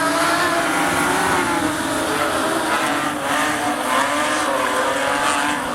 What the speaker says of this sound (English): You can hear the high revving 6-cylinder machines being led away by Joel Thomas.